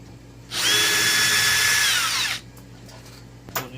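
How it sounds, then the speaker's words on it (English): A power driver with a flat blade bit backs the screws out of an old bathroom doorknob. It makes one close, loud whirring burst of about two seconds, followed by quiet and a small clunk. "So easiest way, just use a flat blade. Back out the screws."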